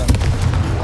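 A Confringo fire spell blasts in Hogwarts Legacy: a sudden, loud booming burst at the start that rumbles briefly and then fades over a short moment.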